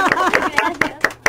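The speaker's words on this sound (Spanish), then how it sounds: "un aplauso para Dulce" A small audience in a radio-studio setting claps for a participant, six sharp, evenly spaced claps heard close and alone.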